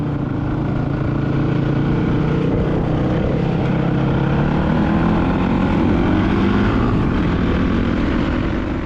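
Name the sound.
motorcycle engines roaring, Baja desert ride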